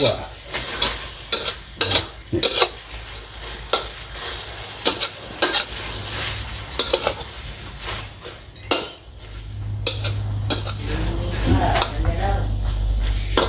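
Holy basil leaves stirred with a utensil through a glass noodle stir-fry in a pan, scraping and clinking in repeated strokes over a steady sizzle that grows louder toward the end, with a voice talking briefly.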